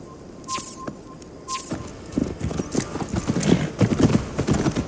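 Horse hooves clip-clop in Assassin's Creed Valhalla, starting with a few faint bell-like taps, then a steady, fairly close trotting rhythm that grows louder over the final seconds.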